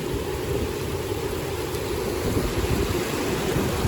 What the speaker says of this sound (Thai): เป็นน้ำตกน้ำพุร้อนนะคะ